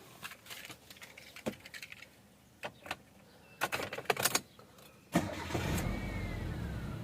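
A 2011 Mitsubishi Lancer 1.6 GLX sedan starting up: a few clicks and brief cranking bursts, then the engine catches and settles into a steady, close idle that holds to the end, with no talking.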